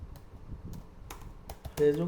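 Typing on a computer keyboard, a steady run of light, quick key clicks close by, ending in a louder thump, with a voice speaking over it.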